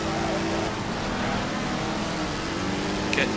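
A race car engine in the Wreckfest video game, a continuous steady droning growl as the car pulls away, loud and even, with a brief higher-pitched squeal near the end.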